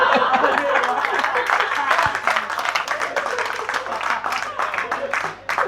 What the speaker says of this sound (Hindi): तालियां बजाते रहिए आप